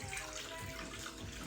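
Warm filtered water poured steadily into a bowl for sourdough discard pretzel dough, a brief continuous splashing stream close to the mic.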